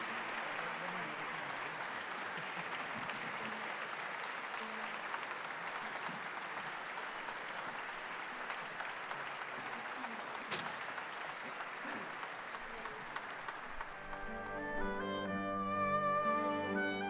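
Sustained audience applause in a concert or TV music show setting, dense and steady for about fourteen seconds before music begins to rise beneath it near the end.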